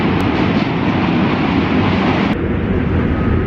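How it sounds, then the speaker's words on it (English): A train rumbles past close by in DUMBO, Brooklyn, a loud continuous roar of wheels and wind buffeting the microphone throughout. "Here comes another train."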